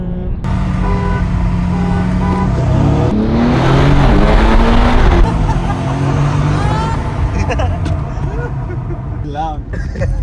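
A new BMW M5 and a BMW M4 drag race, with a loud roaring engine surge that swells and fades as the cars pass, while people talk over the noise.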